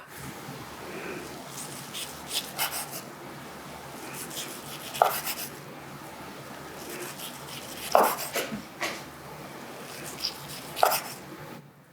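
A sharp knife slicing through rolled kimbap on a board, with three distinct cutting strokes spaced a few seconds apart over faint background noise; quiet talk is heard in between.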